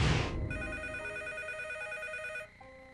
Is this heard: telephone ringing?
yes